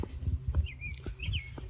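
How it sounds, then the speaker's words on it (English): Faint bird chirps with rising and falling whistled notes drift over low outdoor rumble and soft footstep-like thumps, on a cloudy day walking into Cheshire, Massachusetts. "Hear the birds chirping."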